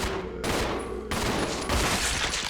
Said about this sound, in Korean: 아 좀비야 내가 총을 쏜다